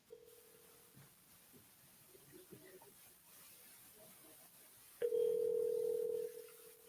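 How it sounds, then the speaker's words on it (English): A telephone line sounds during sales cold calls: a brief steady tone at the start, faint clicks and rustles, then a louder sustained tone for over a second near the end. "All right, Steve, if you want to start dialing, let's just dial until we get someone on the phone."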